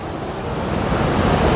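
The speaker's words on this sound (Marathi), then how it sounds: "पाण्याने भरलेला ओढा वाहत आहे" A water-filled stream rushes beside a rock-cut cave of black stone, a dense, steady roaring wash of flowing water close by, with no talk over it.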